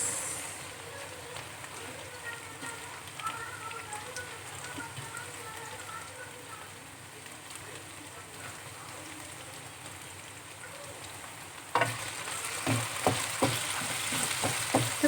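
Onions sizzle and fry in a pan alongside half-cooked potatoes for a quick fried rice, a steady hiss that grows louder and crackly toward the end as the onions go in and get stirred, with no talk over it.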